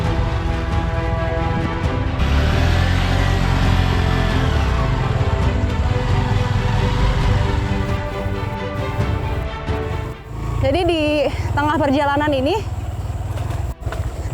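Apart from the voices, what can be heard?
motorcycle riding through thick mud on unpaved road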